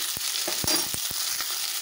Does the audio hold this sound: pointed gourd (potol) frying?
yes